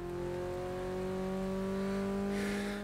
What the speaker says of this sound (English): As I try to manage tire spin here.